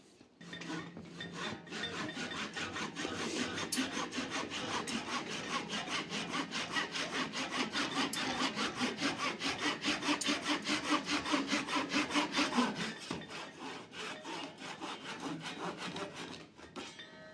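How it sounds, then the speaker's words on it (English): A pole saw cuts steadily through wood in rapid back-and-forth rasping strokes, continuous and close for the whole stretch, with no talking. "I'm going to use this pole saw."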